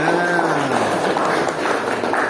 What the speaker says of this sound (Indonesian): silakan berikan aplaus temannya